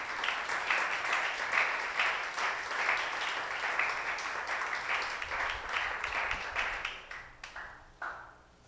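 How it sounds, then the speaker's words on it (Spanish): Congregation applause during a church sermon, steady crowd clapping that holds for several seconds and then thins out and fades, with little talk. "Dale un aplauso al Señor, mi hermano"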